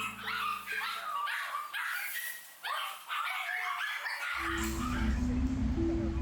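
Dogs at a Singapore dog breeding facility yip and whine in short, high bursts for about four seconds, then a low steady hum takes over to the end.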